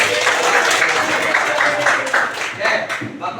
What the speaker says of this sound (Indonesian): Coba tepuk tangan buat kita semua.